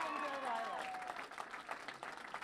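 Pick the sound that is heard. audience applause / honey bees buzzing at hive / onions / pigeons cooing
audience applause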